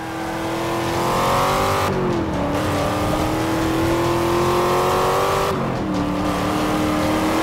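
Chevrolet Camaro racing in Forza Motorsport 5, a loud sustained engine drone with pitch sliding up and down as it accelerates, two brief dips where it shifts gears, no talk.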